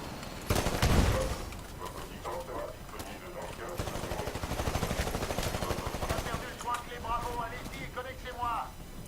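Rapid automatic gunfire from a smart gun in a first-person shooter game, loud bursts with shot-like clatter starting early, mixed with other game effects and someone talking over much of it.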